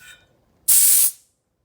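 A cracked E cylinder valve releases one short, loud burst of hissing gas lasting about half a second, purging debris, then cuts off to silence.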